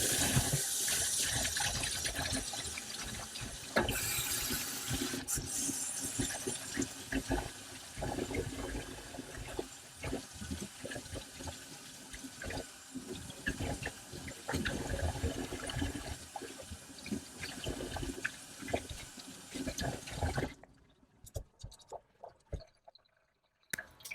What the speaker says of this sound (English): Now I'm going to rinse it off with some warm water.